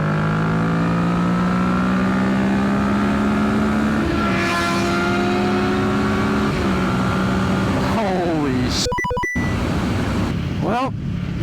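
Loud, close engines of Kawasaki ZX-6R, ZX-10R and 2024 Ninja 650 sport motorcycles scream at high revs at full throttle, pitch climbing through several gear shifts as the bikes accelerate hard, with a brief clatter near the end.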